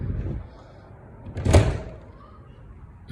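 Front door of a house still under construction opening, a single brief broadband swing-and-latch sound near the middle, moderately loud against a quiet room with faint background noise.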